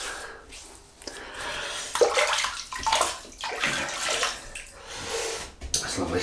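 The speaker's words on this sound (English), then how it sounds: "you just lather your brush in it" Shaving brush worked over a fougère shaving soap, giving wet, frothy swishing and squelching strokes in uneven bursts, close up, with a little splashing water between strokes.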